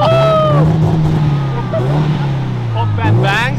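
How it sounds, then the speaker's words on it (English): A car engine revs at the Daikoku car meet in Japan, its loud droning note rising and falling in long pulls up close, with people talking over it. "He's letting him rev his car."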